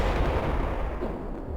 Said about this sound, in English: he can fire shells from the ship down to you